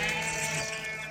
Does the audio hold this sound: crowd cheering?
no